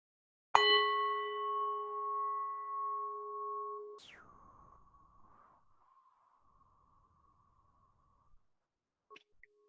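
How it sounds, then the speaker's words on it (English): A meditation bell is struck once, ringing with a clear sustained tone that slowly decays, followed by a brief sweeping shimmer and a long fading hum, with a faint soft tap near the end. "I'll invite the bell."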